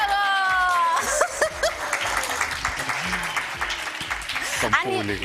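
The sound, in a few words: studio audience applause for the physiotherapist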